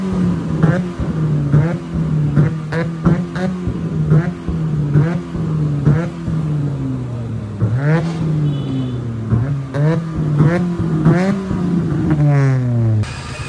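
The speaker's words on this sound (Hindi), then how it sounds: "This is the एचकेएस exhaust, so let's see गाड़ी कैसा फ्लेम मारती है।" A Suzuki Cultus with an HKS exhaust and a flame kit revs repeatedly, close and loud. Engine notes rise and fall in sharp blips and longer sweeps, punctuated by crackling pops from the exhaust.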